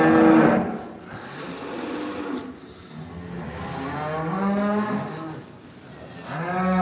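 A cow moos repeatedly in long, loud, drawn-out calls at a farm during calving, close by, with brief pauses between lowing calls.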